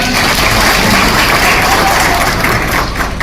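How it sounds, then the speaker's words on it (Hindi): Crowd applause at a political rally in India, a dense continuous roar of clapping and crowd noise heard at a distance, loud and steady without any speech over it. "सबके लिए जरा जोरदार तालियां बजा दो एक बार"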